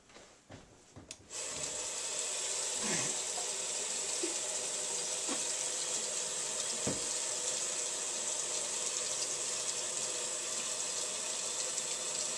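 A bathroom tap runs in a steady close gush for a long stretch during rinsing after toothbrushing, following a few short knocks at the start, with no talk.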